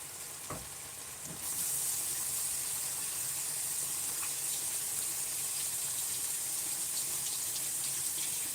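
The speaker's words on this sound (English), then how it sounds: "Let me just wash my hands." Tap water runs steadily into a kitchen sink during hand washing while a crock-pot bean soup cooks, a constant close hiss starting after a couple of soft knocks and continuing unbroken.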